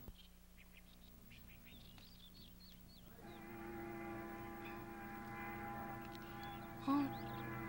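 A train pulls into a station, its steady rumble and hum building partway through with a sustained tonal squeal of the wheels, plus a brief higher whine near the end, heard at moderate distance with no talk.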